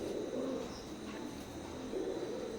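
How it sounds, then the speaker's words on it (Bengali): A pair of Royal Teddy pigeons coo softly and close by, with low, rolling calls rising and falling in two gentle swells over a quiet background. "স্ক্রিনে এখন যে কবুতর জোড়া দেখতে পাচ্ছেন এইটাও রয়্যাল টেডি"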